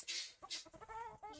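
Chickens on a spring homestead, several short clucks and squawks in quick succession, close and fairly clear with no talk.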